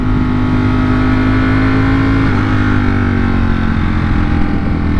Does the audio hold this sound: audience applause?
no